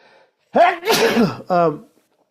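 A single loud sneeze bursts out after a short intake of breath, close to the listener, followed by a brief voiced exhale.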